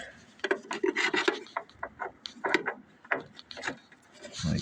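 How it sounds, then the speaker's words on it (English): A socket being worked onto a bolt on a vintage Ford truck during cab removal, giving close, uneven metallic rubbing, scraping and clinking in irregular bursts. "I want to see if I can get the socket on it."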